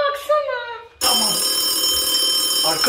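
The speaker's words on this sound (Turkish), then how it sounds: "Telefon çalıyor galiba." An old telephone rings indoors in a staged spooky scene, a loud continuous electronic-sounding ring after a brief voice, filling the room steadily until the end.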